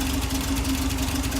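A 1961 Triumph TR3A engine idling as it warms up, a steady close rumble with a low even throb and a faint ticking pulse running throughout.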